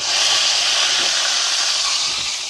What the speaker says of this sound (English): Let that steam clear out.